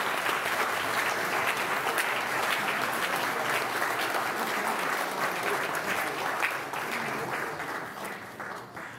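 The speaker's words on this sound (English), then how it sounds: "Let's have one more round of applause for our new members" Church congregation giving a warm round of applause for new members, a thick, sustained clapping from many people that holds steady and begins to thin toward the end.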